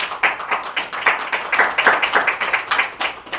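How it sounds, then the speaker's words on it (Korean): Audience at a Rotary Club breakfast meeting in the Westin Chosun Hotel in Seoul claps steadily to welcome a lecturer, a dense, even patter of many hands lasting several seconds with no speech over it. "큰 박수로 맞이해 주시기 바랍니다"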